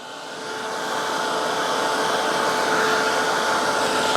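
A heat tool drying stamped ink on a vintage-style round ornament craft project, a loud, steady whooshing hum that swells over the first second and then holds, close up with no talking.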